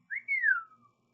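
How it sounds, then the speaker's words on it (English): A reader performing a Harry Potter chapter whistles once for a character, a single short, clear note that rises briefly and then glides down, close and alone. "Justin Fitzpunchly whistled."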